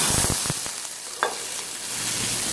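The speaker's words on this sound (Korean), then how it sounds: "해산물을 넣고 화이트 와인이 있다면 이렇게 넣어주는 겁니다." White wine poured into a hot pan of seafood for a spaghetti sauce gives a strong hissing sizzle with a few clinks and stirring knocks, steady and close.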